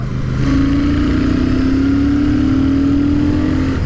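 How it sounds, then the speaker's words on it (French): A Royal Enfield Super Meteor 650 motorcycle pulls through the gears, its air box roaring and exhausts pulsing in a steady, loud, close drone that rises gradually in pitch with no talk. "la boîte à air ronfle. C'est assorti aux échappements qui trépident"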